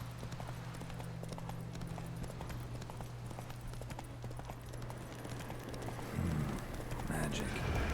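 Hooves of the horse Roach galloping in The Witcher 3, a fast rhythmic clip-clop that runs steadily throughout with a low hum beneath, and a voice speaking briefly over it.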